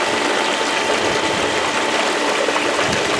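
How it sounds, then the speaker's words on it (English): A water pump runs on a black sand dredge sluice, with a steady loud wash of rushing water and a constant churning hiss, close and unbroken, and no talking. "It's retaining the water. The pump is working good, staying off the bottom."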